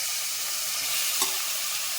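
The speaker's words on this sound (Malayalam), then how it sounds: "ഇനി നേരത്തെ ചതച്ചുകൊണ്ട് വന്ന ഉള്ളിയുടെ കൂട്ട് ഇതിനകത്തേക്ക് ഇടാം" A soft, steady sizzle of crushed onion mixture frying in hot coconut oil for chicken kurma, with a brief stir or clatter midway.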